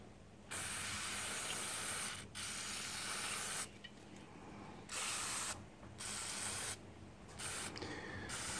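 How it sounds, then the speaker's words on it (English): Carb cleaner sprays onto the float of a Briggs & Stratton carburettor in a series of loud hissing bursts, each lasting one to two seconds with brief gaps between, close and harsh. "so we'll just get the carb spray."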